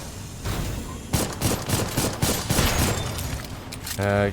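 Rapid bursts of gunfire from an ambush in the video game Dolls Nest, dense overlapping shots and impacts over several seconds, ending with a tonal electronic game sound.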